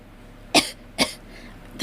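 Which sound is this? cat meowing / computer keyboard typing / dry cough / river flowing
dry cough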